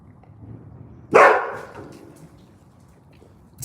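A single loud dog bark bursts out close by after a second of quiet, followed by fading room noise and a faint sound at the very end.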